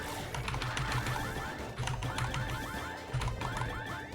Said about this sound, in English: you gotta hear some keyboard ASMR with this